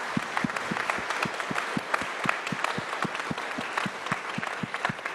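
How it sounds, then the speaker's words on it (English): Audience at a New Mexico governor candidate forum applauding the event staff, many hands clapping in a steady, even stream with a few louder individual claps standing out close by. "I would really like to just ask us if we could give a round of applause to all the staff from the chambers"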